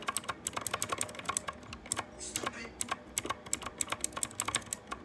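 Fingers type quickly on a new Red Dragon computer keyboard, a close run of crisp, irregular key clicks with brief pauses and no talk.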